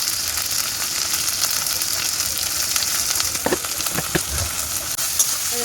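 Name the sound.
frying capsicum and tomato vegetables for chowmein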